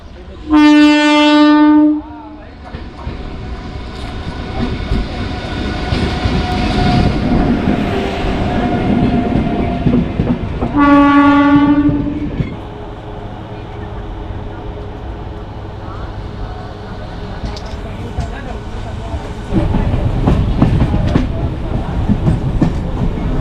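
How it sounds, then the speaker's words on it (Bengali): A crowded passenger train pulls away with a loud horn blast. A steady rumble of wheels on rails follows, then a second horn blast and continued clattering motion, with people talking throughout. "ট্রেন ছেড়ে দিয়েছে"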